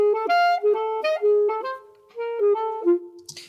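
A sequenced jazz melody played back alone in eighth-note triplet swing, a bright clear instrumental line of quick notes with a moderately loud, steady rhythm and a short break partway through.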